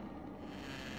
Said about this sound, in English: that's the sound of too much weight on too little wood